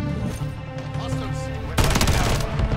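JAK Burnout kit gun in Modern Warfare 3 firing a sudden loud burst of rapid automatic shots that begins over game ambience and continues to the end.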